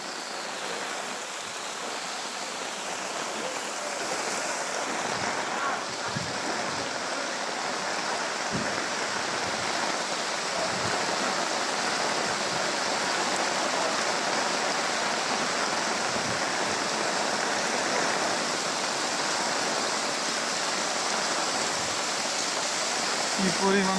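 Heavy rain pouring down during a town flood, a dense continuous hiss and roar of water that holds steady throughout, with faint voices and scattered knocks beneath it.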